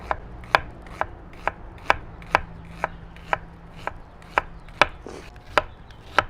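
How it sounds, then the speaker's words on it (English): A knife slicing onion into thin slivers on a cutting board, crisp evenly spaced chops about every half second, close and clear with no talking. "Just little slivers of onion. Just cut it real thin."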